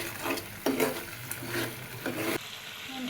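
Spice paste with chopped tomato fries in a pan, a dense close sizzle broken by repeated scraping and clattering stirs, then a sudden drop to a quieter hiss near the end, no voices.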